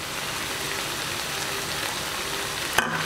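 Okra keema being stirred and mixed in a hot pan, a steady close sizzle and frying hiss throughout with a brief scrape or clink near the end.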